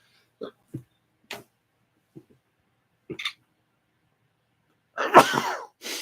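A single sharp sneeze bursts out near the end, after a few quiet clicks and soft breaths in an otherwise silent room.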